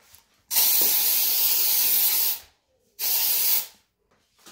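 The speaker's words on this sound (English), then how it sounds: "I'm gonna spray it with Doom." Aerosol can of Doom insecticide sprayed at flies indoors, two loud steady hissing bursts, a long one of about two seconds then a shorter one, close by with no talking.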